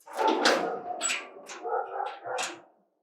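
A dog alternates whimpers and yips with short barks, several bursts in quick succession, close and fairly loud, with no talking.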